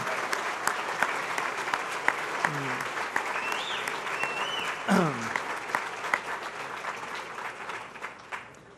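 An audience applauds at a chamber of commerce annual dinner, a dense, sustained patter of clapping with scattered louder claps, voices murmuring and a few whoops rising through it.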